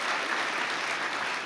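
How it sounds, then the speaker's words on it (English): An audience at a conference applauds, a dense, even wash of clapping held at a moderate distance for the whole moment. "Why don't we give Linda Upmeyer a round of applause for a fantastic job leading this conference"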